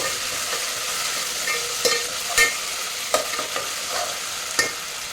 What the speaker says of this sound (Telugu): ఇప్పుడు నేను జింజర్ గార్లిక్ పేస్ట్ వేసేస్తున్నాను మిక్స్ చేద్దాం ఇప్పుడు